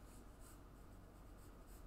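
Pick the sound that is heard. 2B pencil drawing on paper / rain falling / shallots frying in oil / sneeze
2B pencil drawing on paper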